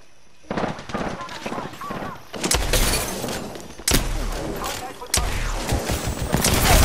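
Heavy gunfire in the battle-royale video game Apex Legends, with rapid automatic bursts and sharp bangs coming in several loud waves under excited player chatter.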